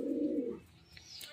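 An 18-year-old Giribaz pigeon gives a short, low, throaty coo that fades after half a second into quiet room noise, close and fairly soft.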